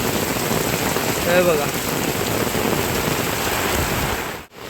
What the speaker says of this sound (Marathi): किती मुसळधार पाऊस पडतोय बघा